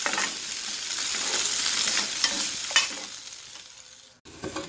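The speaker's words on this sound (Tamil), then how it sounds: "வதக்கணும்னு அவசியம் இல்லை, இருந்தாலும் நான் புதினாவோட மிக்ஸ் ஆகிறதுக்காக கொஞ்சம் வதக்கிக்கிறேன்." Tamarind and mint leaves crackle and sizzle steadily in a pan as they are stirred and sautéed, with a few utensil scrapes near the end.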